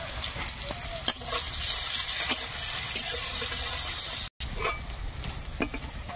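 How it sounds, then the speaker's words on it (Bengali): Chopped onion and garlic sizzle steadily in hot oil, a close, continuous frying hiss with occasional stirring clatters and scrapes, a brief gap near the end, with no voices. "তেলের মধ্যে পেঁয়াজ কুচি, রসুন কুচি দিলাম, সবজিটা চাপিয়ে দেবো"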